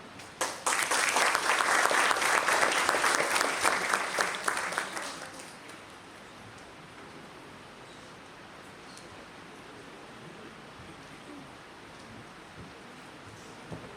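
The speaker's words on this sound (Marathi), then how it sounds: "टाळ्या वाजवा" Audience applause at a club installation ceremony, a dense burst of clapping that swells for about five seconds and then fades into quiet room ambience.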